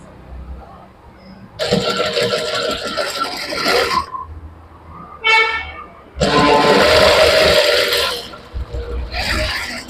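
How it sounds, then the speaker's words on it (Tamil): Stitching blouse lining on a sewing machine produces two loud, sustained runs of whirring, clattering motor noise separated by short pauses, followed by a brief final burst. "இந்த லைனிங் மேல இப்படி விரிச்சு வச்சு ஃபர்ஸ்ட் ஒரு தையல் அடிங்க"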